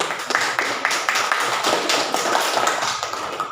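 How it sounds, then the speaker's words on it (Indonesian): A classroom of students gives a short round of applause for a student group, with sparse, uneven hand claps close by, fairly light and lasting a few seconds without talk. "Oke, kasih tepuk tangan untuk kelompok 2."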